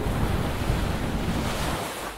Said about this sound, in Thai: วันหนึ่งสำเภาถูกพายุกระหน่ำล่มกลางทะเล